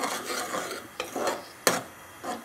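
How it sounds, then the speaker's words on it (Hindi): Masala spices roast in a pan while a spoon rasps and scrapes through them in repeated rubbing strokes, with one sharper knock. The sound is close and there is no speech. "यहाँ पे मेरा मसाला साथ साथ भून भी रहा है"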